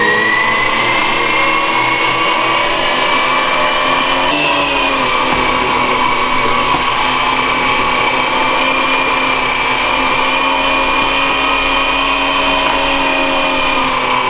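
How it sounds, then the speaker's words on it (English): A Weston No. 8 electric meat grinder for wild game runs steadily and loudly, a constant motor whine with a sustained tonal hum and no pauses, with no voices over it. "That's the Weston No. 8 grinder."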